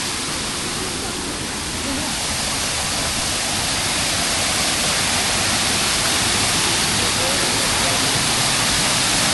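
A waterfall on Siquijor island roars as a loud, unbroken rush of falling water, dense and steady throughout, with no pauses and no clear talk over it.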